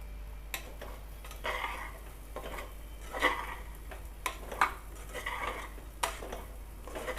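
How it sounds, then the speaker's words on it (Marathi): Rice being stirred and turned in a pan over medium heat, for jeera rice: repeated scraping, clinking strokes of a spoon against the metal, close and moderately loud, with a faint sizzle underneath. "हे पहा, असे सतत परतत राहायचे आहे, नाहीतर तांदूळ असे खाली चिकटत राहील।"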